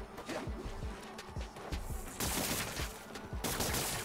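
Rapid bursts of enemy gunfire crackle in Marvel's Spider-Man: Miles Morales, dense overlapping shots with louder noisy blasts near the middle and end, no speech.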